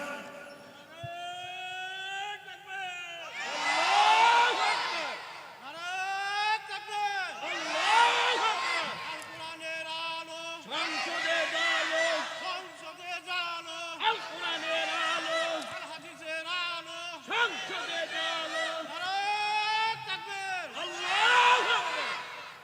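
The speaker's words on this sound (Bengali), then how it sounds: "কে আছেন একটা তাকবীর লাগান?" A large crowd at an Islamic sermon repeatedly chants the takbir, several loud swelling call-and-response waves of many voices, with a lead voice calling between them.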